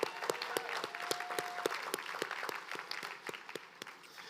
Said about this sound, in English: I want you all to clap loudly and wish Goodwill 100 more.